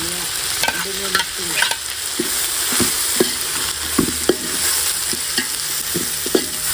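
Ginger garlic paste with mint and coriander sautéing in oil for biryani, a steady loud sizzle broken by repeated scraping strokes of a stirring spoon, close up.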